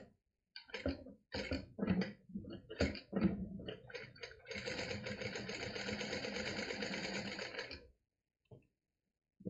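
A sewing machine stitches a fabric card holder, starting in short separate bursts and then running steadily for about three seconds before stopping. The whirring is close and clear, with no talk over it.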